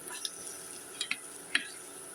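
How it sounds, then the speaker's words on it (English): Scrambled eggs cook in a pan with a soft, steady sizzle, broken by a few sharp utensil clicks and scrapes against the pan, fairly quiet and close, with no talking. "It don't take long to make scrambled eggs."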